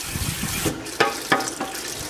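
Cold tap water runs over freshly boiled pasta drained for homemade macaroni and cheese, giving a steady close splashing rush with a few sharper bursts and no talking.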